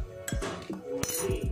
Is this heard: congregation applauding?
no